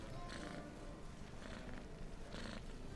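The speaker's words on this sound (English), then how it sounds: "I heard a cat." A cat purring inside the roguelike video game Stoneshard, a soft steady rumble with a few brighter swells, heard close and alone with no talk over it.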